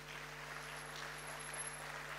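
A church congregation at a women's service claps together as an offering to the Lord: a faint, steady wash of applause over a low electrical hum, unbroken for the whole stretch.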